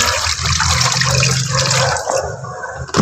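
Water poured out to wash away dirt, a loud continuous rushing splash that thins and drops off near the end.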